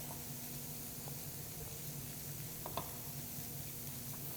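Onions and cauliflower rice cooking in a pan for vegetarian stuffed peppers: a steady soft sizzling hiss with faint crackles and occasional light ticks, low and continuous.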